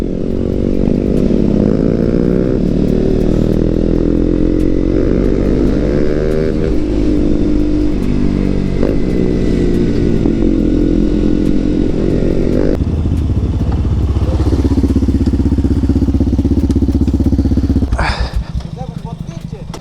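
Loud KTM Duke 125 motorcycle engine revving and idling close by, with rough rumbling and uneven popping crackles from the exhaust, tapering off near the end.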